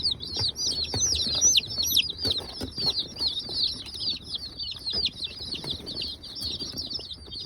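Baby chicks in a brooder keep up a dense, continuous chorus of high, thin cheeping, with many overlapping peeps heard close by and no talking.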